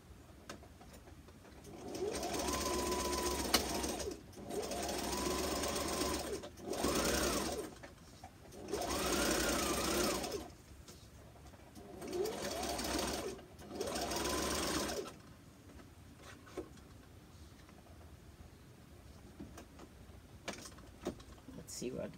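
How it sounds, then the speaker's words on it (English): A sewing machine stitches the edges of a fabric face mask in several loud, steady runs separated by short pauses, with a quieter stretch of handling noise at the end. "So we're gonna go and we're gonna sew it."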